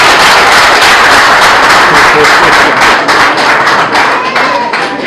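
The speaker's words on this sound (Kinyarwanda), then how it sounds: "Amashyi ngo kagire." Applause from an audience at an oath-taking ceremony in Rwanda fills the whole span, a loud, dense and continuous patter of many hands clapping at once.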